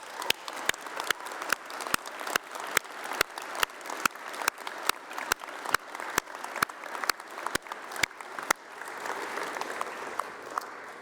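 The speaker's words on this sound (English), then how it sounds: "Massive applause if you don't mind." Graduation ceremony audience at UCLan giving a sustained round of applause, dense clapping with a few sharp louder claps standing out, tapering off near the end.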